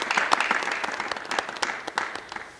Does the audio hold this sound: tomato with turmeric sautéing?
no